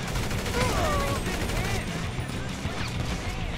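Sustained gunfire with unlimited ammunition rattles through a shootout in GTA V on PC, dense volleys of rapid shots running throughout while someone talks over the action.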